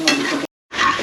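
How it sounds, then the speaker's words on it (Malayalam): Stingray pickle fries in a pan with a close sizzle and a quick scraping stir, cut by a short moment of silence before the frying noise comes back. "ഈ വച്ച് ഇളക്കുകയാണ്"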